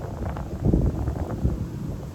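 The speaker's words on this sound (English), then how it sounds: "Pretty windy." Wind buffets a microphone outdoors beside a mason bee house, a steady low rumble swelling in gusts near 0.7 and 1.5 seconds with no voice present.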